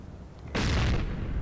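A single heavy gunshot in a video game, a sudden loud boom about halfway through that decays over the following second after a quiet lead-in.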